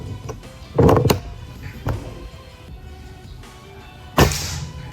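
A few sharp thuds at irregular intervals, each a short crisp impact like a pellet striking a target, from a PCP X-Treme Guardian air rifle, over quiet outdoor background.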